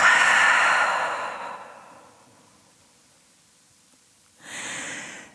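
A long, breathy exhale through an open mouth during a gentle yoga twist session, close and soft, fading over about two seconds; after a pause a second shorter breath follows.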